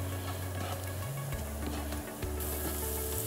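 Spices fry and are stirred in a pan with dried fish, eggplant and potato, a soft continuous sizzle with light ticking stirs over a low, steady hum.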